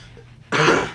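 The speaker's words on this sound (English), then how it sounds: "Sorry if I'm coughing. I have a cold." A single rough throat-clearing cough from someone with a cold, close and loud after a quiet moment of faint background hum.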